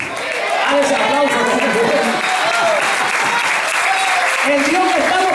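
A church congregation at a special Israel service breaks into loud, sustained applause and cheering that fills the room throughout, with voices calling out under the clapping.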